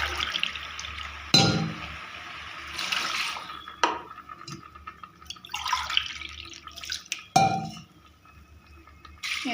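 Water is poured from a glass onto soaked rice in a kitchen pot, with several separate splashing pours broken by clinks of the glass and short pauses between them. The sound is close and quiet, with no talking.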